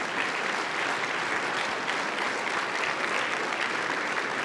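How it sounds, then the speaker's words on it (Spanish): A church congregation at a Sunday service applauds, a dense, even wash of clapping from many hands that holds steady throughout, loud and full, with no voices standing out. "Dale un aplauso al Rey de Reyes."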